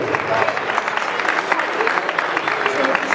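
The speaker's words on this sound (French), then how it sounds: "on peut applaudir les jeunes" Audience applause for young pancrace fighters at their first bout at an amateur event in Carros: steady dense clapping at a fairly loud level through the whole stretch, with crowd noise mixed in.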